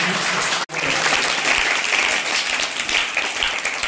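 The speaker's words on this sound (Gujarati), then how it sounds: "તો જોરદાર તાળીઓથી એમને આપણે સ્વાગત કરવાનું છે." Applause welcoming the Bhaskaracharya team onto the stage at a school Maths Day quiz event, a full room clapping in a dense, sustained burst after a momentary cut, loud and continuous.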